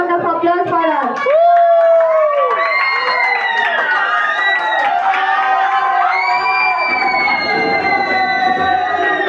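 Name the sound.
audience applause and cheering for a contestant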